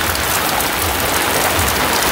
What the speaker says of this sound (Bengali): আর মোটামুটি বৃষ্টিও বহুত বৃষ্টি।